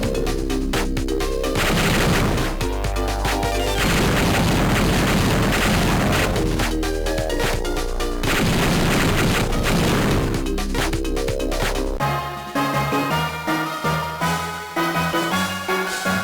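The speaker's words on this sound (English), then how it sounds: "Crappy, slow-ass missiles." Slow missiles fired and exploding in the Game Boy Advance game Sigma Star Saga, heard as loud repeated booming blasts in clusters, followed by a stretch of chiptune-style game music near the end.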